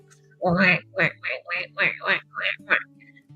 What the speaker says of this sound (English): Let's go see the ducks.